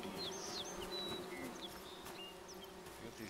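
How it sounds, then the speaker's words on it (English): Bees buzz around a tree stump in a forest video game, a soft continuous insect drone with thin, faint chirps above it. "Stay away from the bees."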